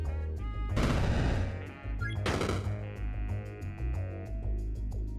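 Bombs explode in the video game Peglin, with two loud, crunching blasts close together, the second about a second and a half after the first. Softer game effects and a steady musical hum continue between and after them.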